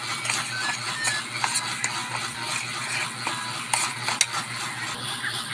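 Butter is stirred into crinkles cookie dough in a bowl, a steady scraping and stirring with irregular clinks of a utensil against the bowl throughout.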